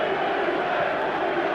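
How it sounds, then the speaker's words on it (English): A packed football stadium crowd roars during a 1994 Champions League match between Manchester United and Barcelona, a loud, sustained wall of cheering and chanting with no break. "Listen to this crowd."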